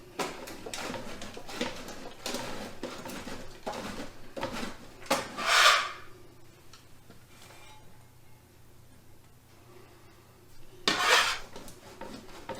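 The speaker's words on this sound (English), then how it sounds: "the first thing we're going to do is grate up some cheese" Cheese is rubbed over a metal grater in a home kitchen for American cheese, making a run of soft rasping strokes followed by two brighter, louder scraping bursts with a pause between them.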